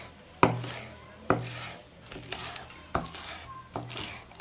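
A knife chops red peppers on a board in a handful of sharp, uneven knocks, each a distinct close thud with softer cutting and scraping sounds between them, and no one talking.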